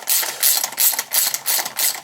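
Ratcheting torque wrench tightening the wheel nuts on a Yamaha YXZ side-by-side, heard as close, rapid clicking in about five short, evenly spaced bursts with no talk.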